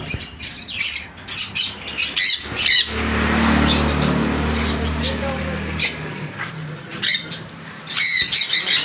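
Caged conures and cockatiels chirp and squawk at a bird sale, the calls bursting out in repeated shrill bursts around a voice that talks through most of the clip.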